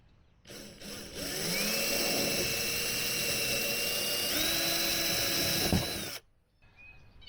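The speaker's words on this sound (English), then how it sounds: "and then I'll get this drilled." A power drill bores a hole through the wall of an RV camper to fit a RotoPax mount, a loud steady whine with a pitch shift partway through, running about five and a half seconds before stopping.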